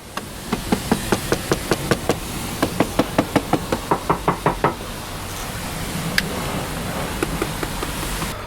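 Knuckle knocks on the plastic body panels of a 2024 Honda Africa Twin Adventure Sports ES DCT motorcycle, two runs of a dozen or so sharp, evenly spaced hollow taps, close up, followed by a few scattered knocks.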